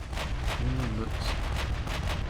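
Naval guns fire in the warship battle game Ultimate Admiral: Dreadnought. Several dull booms land in a rough rhythm over a steady rumble of gameplay sound, at moderate loudness.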